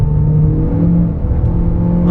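Renault Clio R.S. hatchback accelerating, heard from inside as a loud steady engine drone with a rising tonal hum, no talk over it.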